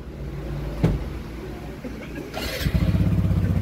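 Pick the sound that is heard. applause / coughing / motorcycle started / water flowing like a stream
motorcycle started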